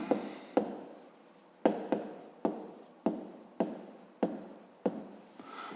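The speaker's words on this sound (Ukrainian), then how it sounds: "Ну що ж, давайте записуємо тоді розв'язання." A pen writes out a fifth-grade math solution on paper: a series of about nine distinct scratchy strokes, each starting sharply and fading, close and fairly quiet.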